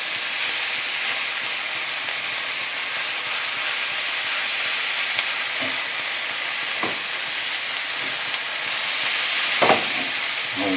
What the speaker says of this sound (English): I'm going to cook the turkey so it's almost done, breaking it up